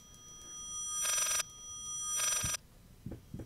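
Two bursts of ringing come from a telephone in Layers of Fear over a quiet, eerie ambience, followed by a few soft thumps.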